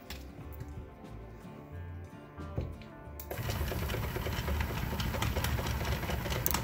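A homemade rock tumbler's motor, running empty, whirring and clattering rhythmically at close range, quieter at first, then louder and rougher as the machine picks up.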